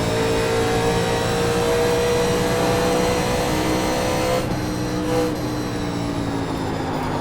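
Race cars in the iRacing sim, Legends class, drone together in a loud, steady engine roar with several layered tones that shift slightly partway through, continuous for the whole stretch.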